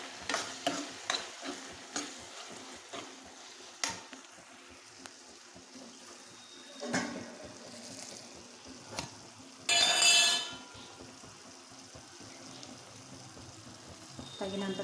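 Egg tomato curry masala cooking in oil in a pan, with soft frying and sizzling, a series of spoon stirs and taps early on, and a brief louder hiss near the middle.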